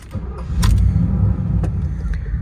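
A car engine runs steadily close by, a low continuous rumble with a few brief metallic clinks on top and no one talking.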